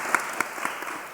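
A few distinct claps ring out from an audience after a talk, sparse spaced hand claps over a faint room background, brief and moderately loud.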